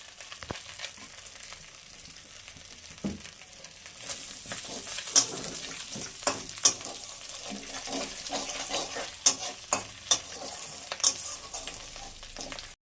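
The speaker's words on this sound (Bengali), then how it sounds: "দুটো শুকনো লঙ্কা, একটু কালো জিরে ফোড়ন দিলাম, আর একটু তেল দেবো।" Dried red chillies and nigella seeds crackling in hot oil for a prawn curry, a steady sizzle punctuated by sharp pops and spatula clinks, with a faint running-water sound in the background.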